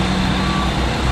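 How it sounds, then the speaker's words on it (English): A fire truck's reversing beeper sounds steadily over a loud, constant engine rumble as the vehicle backs up. "Oh, he's backing up."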